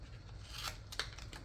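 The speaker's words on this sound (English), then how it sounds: "And then you're gonna cut out" Scissors snip through paper being cut to size for custom cups, giving a few quick close rasping cuts over a steady low background hum.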